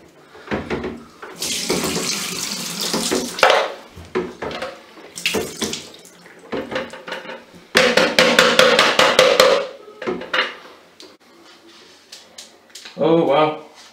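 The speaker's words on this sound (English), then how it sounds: "And we'll just pour this out." Monobath film developer being poured out of a developing tank into a sink, with splashing bursts of liquid separated by pauses and a few clunks, while a person talks in between.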